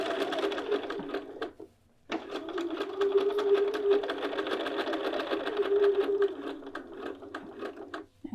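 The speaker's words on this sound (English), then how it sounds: "I have set my machine to baste, and I'm just going to sew along the seam allowance" A sewing machine basting along a seam allowance runs in a steady fast mechanical whir, stopping briefly near the start and then sewing continuously, close and clear.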